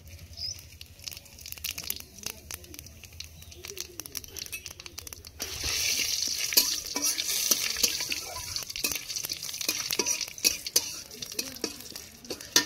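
Bay leaves and whole cumin tempered in hot oil: quiet stirring and scraping at first, then a loud, steady sizzle that jumps up midway and continues with crackles and utensil clicks.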